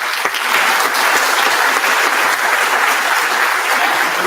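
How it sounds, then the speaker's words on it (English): Sustained applause from an audience at a Rotary awards ceremony in 2022: dense, steady clapping that fills the room at a constant, loud level throughout, with no voices over it. "so please, a round of applause."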